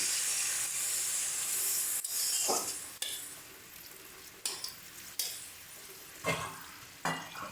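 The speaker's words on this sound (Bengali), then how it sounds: "এবার এর মধ্যে আমরা জল দিয়ে দিচ্ছি।" Cucumber sizzles in a pan as a spatula stirs it, and water is added partway through: steady frying hiss broken by several sharp scraping strokes and a louder burst of sizzle, close and continuous, with no talk.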